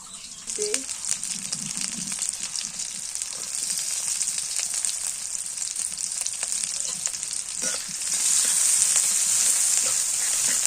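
Green chilies fry in hot oil with a steady, close sizzle that runs the whole time, swelling louder near the end, with a few faint stirring scrapes and no talking.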